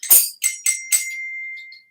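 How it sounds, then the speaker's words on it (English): Small percussion bells are struck four times in quick succession, bright metallic rings close to the microphone with the last one left to sustain and fade, alone with no talking. "Also have little bells"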